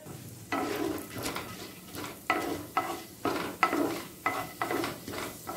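Cumin, chana dal and urad dal fry in a pan as a spoon stirs them, giving repeated rhythmic scraping strokes over a soft sizzle, close up with no talking.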